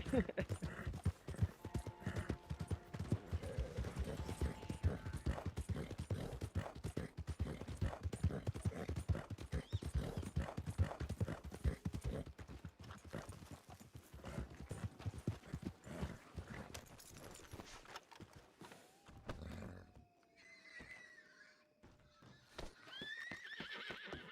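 Horse in Red Dead Redemption 2 with rapid clip-clop hoofbeats on the ground and a neigh, the galloping fading out near the end as brief game sounds follow.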